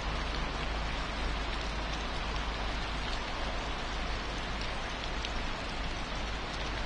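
Steady simulated rain falls in a truck driving video game, a constant, even hiss of drops on surfaces throughout, fairly quiet with no voices or other sounds.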